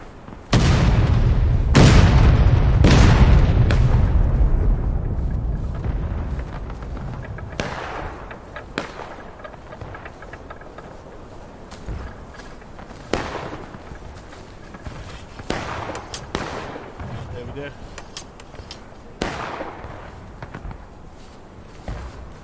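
Reenactment artillery cannons ripple fire in sequence, the first blasts loud and close with deep booms, then more distant reports and sharp cracks scattered irregularly across the field as the volley rolls down the line.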